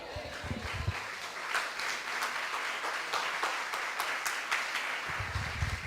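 A crowd at a church service claps steadily for several seconds, a moderate burst of applause for God with faint voices underneath.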